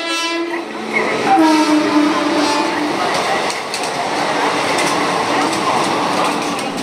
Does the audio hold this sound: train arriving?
yes